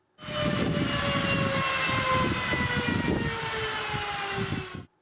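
A steady, loud whirring drone of computer fan blades with a whining tone that drifts in pitch with fan speed, starting abruptly and cutting off after a few seconds.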